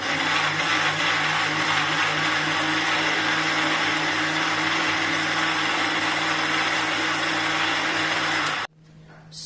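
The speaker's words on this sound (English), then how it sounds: "Now grinding time." A kitchen mixer grinder whirring steadily as it grinds bottle gourd into a paste without water, loud and constant for about nine seconds before it cuts off abruptly.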